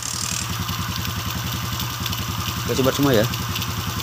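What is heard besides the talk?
motorcycle engine started and idling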